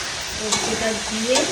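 Poppy seeds go into a frying pan with a soft, steady sizzle, and a couple of brief stirring scrapes sound close by.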